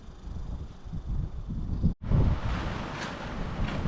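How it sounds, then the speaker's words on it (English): Gusty wind at a lake in Algonquin Park buffets the microphone in low, rumbling bursts, cutting out abruptly for a moment before the blustering resumes. "It's a little windy out there today."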